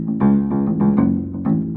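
Short muted bass line on a piano whose strings are damped with felt spacers, giving a few dull, quickly stopped low notes in a steady rhythm, close and alone with no talking.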